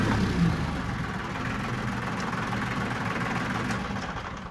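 An engine idling with a steady low rumble, close and continuous, before it is switched off.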